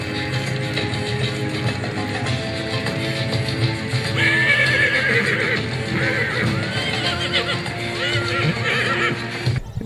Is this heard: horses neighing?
yes